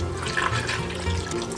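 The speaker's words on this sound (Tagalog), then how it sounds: "Ayan, lalagyan ko na po siya ng tubig." Water is poured steadily into a pot of beef being cooked for humbacua, a continuous close splashing and filling sound that lasts under two seconds with no voices.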